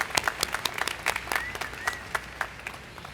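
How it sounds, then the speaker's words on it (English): Scattered clapping from an audience at a university commencement ceremony, moderately quiet and uneven, with individual claps standing out in an irregular patter that runs steadily throughout. "Let's give them a round of applause."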